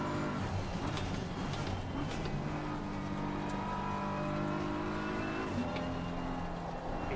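BMW M4 GT3 race car in Assetto Corsa Competizione lapping Spa, its engine droning steadily with gear-change steps in the pitch, plus faint tire noise, loud and continuous throughout with no talk.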